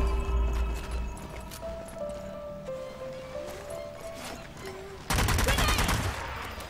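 Gunfire from a newly acquired gun in the video game Zombie Army 4, a loud sustained burst of shots near the end after quieter game effects and tones.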